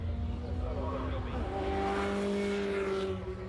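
Lotus Elise Trophy racing cars at Snetterton circuit, engines droning with shifting pitch as they sweep through a right-left sequence, heard under a commentator's voice.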